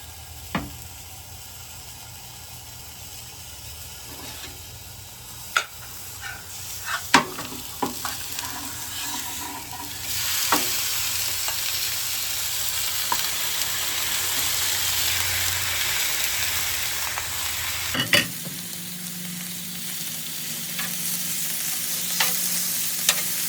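Meat frying on a tailgating griddle beside softened peppers, a continuous dense sizzle with scattered sharp scraping clicks and taps, then a sudden drop to a quieter crackle near the end.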